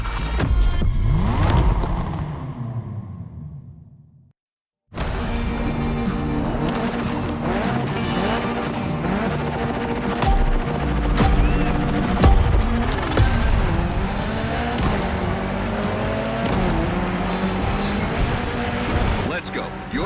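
Mitsubishi Evo 9 tearing through a gymkhana run in The Crew Motorfest, its engine revving hard and rising and falling through sustained wailing notes with tire squeals, loud and continuous after a brief silence, with a voice talking throughout.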